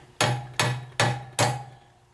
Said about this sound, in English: Usually you can take a hammer, tap on like one side of them